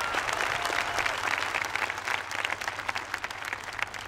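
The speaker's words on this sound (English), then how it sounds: "We have to just give them one big round of applause before I start" A large crowd at a 2009 commencement ceremony applauds the graduates, a continuous wash of many hands clapping heard from a distance, with low hum underneath.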